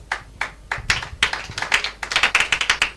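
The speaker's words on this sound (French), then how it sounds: "Acclame pour Jésus-Christ." An audience claps in applause for Jesus Christ, starting as a few scattered claps and building into dense, rapid clapping that keeps going to the end.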